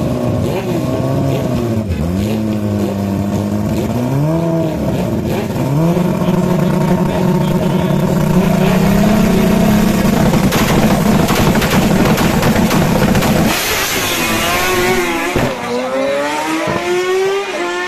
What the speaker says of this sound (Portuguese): vou deixar com vocês aí a passada final do piloto Lucas Simas e do braço de gesso com a Kawasaki ZX-10 aí, para que vocês possam ver a passada final